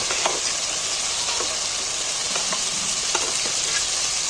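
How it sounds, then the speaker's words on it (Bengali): Cauliflower and eggs fry in a spice masala, giving a steady, close sizzle with a few stirring scrapes scattered throughout. "ফুলকপি গুলোই মশলার মধ্যে তুলে দিচ্ছি আর ডিমগুলো তুলে দিচ্ছি"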